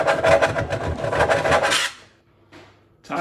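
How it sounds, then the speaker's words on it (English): Close, steady rasping strokes of sanding on old wooden kitchen units, continuous for under two seconds, then a near-silent gap with a brief scrape and a restart at the end. "all we do is sand it"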